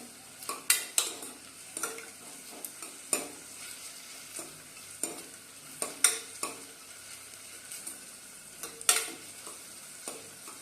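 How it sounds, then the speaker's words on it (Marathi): Onions with ginger-garlic paste are stirred in a hot pan, a spoon scraping and clinking against the metal in irregular strokes over a soft, steady sizzle, close up with no voices. "आता या कांद्यामध्ये आपल्याला एक चमचा आलं लसूण पेस्ट टाकायची व्यवस्थित याला पण हलवून घ्यायचं आपल्याला"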